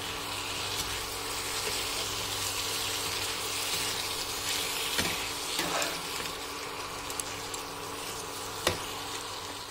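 Tandoori chicken fried pieces cooking in a thick gravy, a continuous soft sizzle and bubbling with a few faint clinks of a spoon, close and steady.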